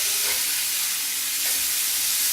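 Thick pork chops sizzle and hiss steadily in a cast iron skillet just after being flipped, a broad, even frying noise that stays close and fairly loud with no voices over it.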